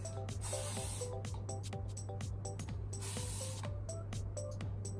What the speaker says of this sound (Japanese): スプレーをかけていきます。